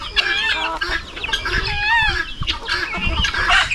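Chickens cluck and crow in a farmyard, several birds calling in overlapping bursts throughout, fairly close and steady, with no talking.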